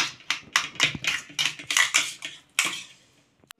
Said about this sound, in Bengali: এটাকে একটু ম্যাশ করে নিতে হচ্ছে, এটা নরমই ফলটা, তো ম্যাশ করে দিচ্ছে দেখো।